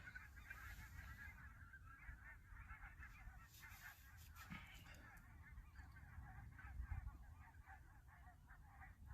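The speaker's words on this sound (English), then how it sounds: "Still hearing the geese in the background going crazy." Geese honk continuously and excitedly, a dense chorus of calls at moderate distance, fairly faint overall with no talking.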